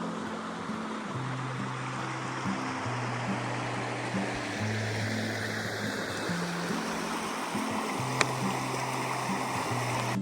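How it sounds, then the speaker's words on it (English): A small stream, almost a river, flows steadily nearby along a trail, a continuous close rushing wash with a low hum underneath and one brief click near the end. "This is the little stream that I am getting or almost a river"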